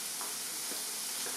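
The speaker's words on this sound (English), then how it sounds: "So I'm going to start by frying the bacon, and you can hear it sizzling nicely." Bacon rashers, cut into small one-inch squares and spread out, sizzle steadily in a frying pan as a continuous hiss with faint crackles, heard alone without talk.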